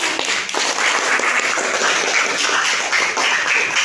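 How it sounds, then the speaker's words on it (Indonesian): Students in a classroom clap for a classmate, a lively, close burst of many hands clapping together that continues at an even level for about four seconds. "kasih tepuk tangan untuk Nesti"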